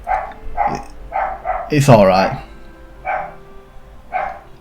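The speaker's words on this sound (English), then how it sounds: "And apologies for my dog barking." A pet dog barks indoors in a rhythmic series of sharp, close barks, with one longer whining yelp in the middle, while a person talks briefly over it.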